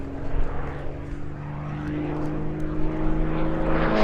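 Gamebird GB1 aerobatic propeller aircraft performing torque rolls and a tail slide at Sywell airshow, its steady engine drone sustained with a strong low harmonic hum, rising slightly toward the end as it climbs.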